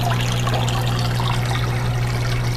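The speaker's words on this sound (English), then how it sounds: "I like the sound of the water falling." Water from an aquarium filter falls steadily into a 75-gallon native fish tank, a continuous close trickle and splash with a low steady hum underneath and no voices.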